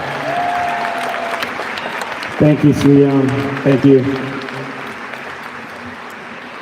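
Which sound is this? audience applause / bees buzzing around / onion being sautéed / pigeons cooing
audience applause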